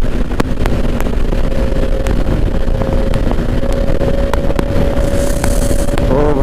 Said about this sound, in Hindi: आप बाइक को खींचते हैं यार, पावर चेक करते हैं बाइक की।